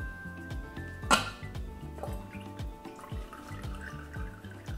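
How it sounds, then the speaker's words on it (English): Cold brew coffee made from Papua New Guinea beans drips and trickles through a cheesecloth filter, a quiet, irregular patter of drops with one brief clatter, and no voices. "if you just tap down in the center, the liquid will flow right through it"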